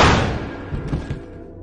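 A gunshot in a film hits as a loud, sharp burst at the very start, then fades into a long reverberant tail with a few softer thuds.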